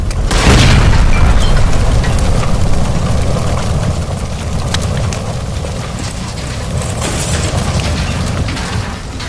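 Gas line explosion in the video game LA Noire, a sudden loud boom followed by a long roaring rumble of fire and debris that slowly settles but stays heavy.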